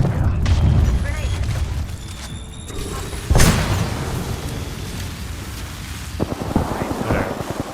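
A grenade goes off in a multiplayer shooter as a single loud, sharp boom with a rumbling tail, preceded by muffled game noise and followed by gunfire and movement sounds.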